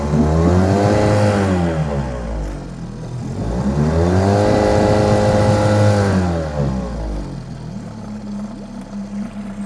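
A boat engine revs up loudly twice, its pitch climbing and falling back each time, then settles into a quieter steady idle.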